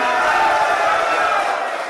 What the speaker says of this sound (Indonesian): Boleh beri tepuk tangan selagi untuk ke seluruh calon